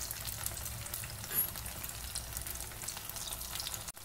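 Poha (flattened rice) cutlets shallow-frying in a pan on a medium flame, a soft continuous sizzle and crackle of hot oil, fairly quiet, with a brief clatter near the end and no talking.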